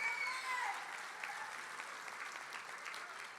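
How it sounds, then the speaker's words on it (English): Audience applause at a sports awards ceremony, a steady mass of clapping that continues throughout and eases slightly toward the end. "How about a big round of applause?"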